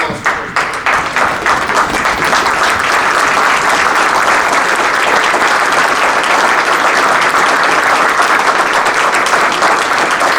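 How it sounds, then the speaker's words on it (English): A courtroom gallery stands and applauds at a judge's investiture in Warren County Common Pleas Court, a loud, dense, sustained round of clapping from many people that continues unbroken for ten seconds. "please stand and a round of applause for Judge Hubble"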